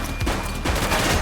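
Gunfire in the video game The Precinct, a police shootout: a dense burst of rapid shots over a loud, steady background roar, with two sharper cracks standing out.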